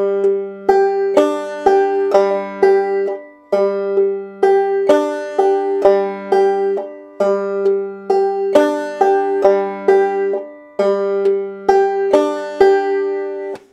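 Clawhammer banjo played with a thumb-lead M-skip technique: crisp plucked notes in a bouncy, repeating rhythm with short pauses between phrases. The instrument is close and clear and plays alone, with no voice.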